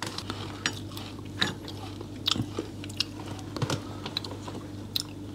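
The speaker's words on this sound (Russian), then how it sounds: "АСМР, как Муслим чавкает яблоком" Someone chews and crunches an apple in a home kitchen, with a string of sharp, wet bites and crunches spread irregularly over a steady low background hum.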